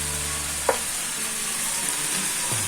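Prawns frying with garlic and mustard paste in a pan give a dense, steady sizzle that hisses on throughout, close and fairly loud, with one faint utensil tap and no talking.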